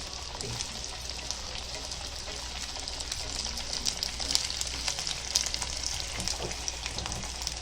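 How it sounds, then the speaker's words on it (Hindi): Puri for Konkani sweet vadas frying in hot oil, a constant dense sizzle and bubbling throughout at moderate level, with no voices. "वो तेल गरम हो गया, अभी पूरी को फ्राई करेंगे"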